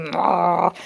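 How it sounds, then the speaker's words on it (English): A deep, sustained growl from Satan in a TV drama scene (Chilling Adventures of Sabrina), loud and close, rumbling steadily for under a second before cutting off, with no talk over it. "You can hear the annoyance and the anger in the growl of Satan"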